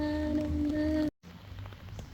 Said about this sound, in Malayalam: മഴയാണ് ഗൈസ്, മഴ.